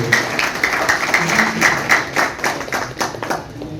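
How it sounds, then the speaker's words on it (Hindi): Applause for Sunil Narayan at a civic felicitation ceremony: a crowd clapping in a brisk, steady rhythm, loud and close, lasting a few seconds with no break. "एक बार जोरदार तालियां भाई सुनील नारायण जी के लिए"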